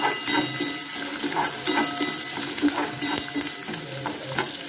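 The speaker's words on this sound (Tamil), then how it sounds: "போட்டு நல்லா வதக்கி விடுவோம்." Garlic and asafoetida sauté in a hot pan for drumstick rice, a steady crackling sizzle broken by repeated stirring scrapes and light clinks, close and fairly loud.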